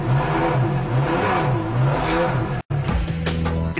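A Ferrari Enzo's engine revs repeatedly, rising and falling in pitch in close, loud bursts, then a brief cut to another stretch of revving and mechanical whir.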